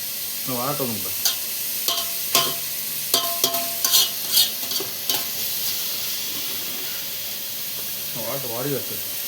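Onions frying in a pan until brown for a sardine curry, with a steady sizzle and hiss broken by clattering stirs of a spoon against the pan, while people talk briefly at the start and end.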